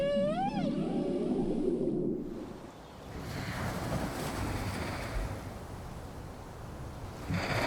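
Male whales singing off Baja, a rising, sweeping tonal call with stacked harmonics for the first two seconds, then giving way to steady ocean surf and wind wash.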